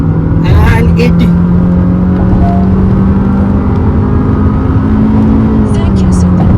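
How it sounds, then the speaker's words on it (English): A Honda Elevate ZX CVT compact SUV accelerates at full throttle, its engine holding a loud, steady drone with a rising tone from inside the cabin and a few brief sharper noises on top. "Full speed. Full acceleration kicked off."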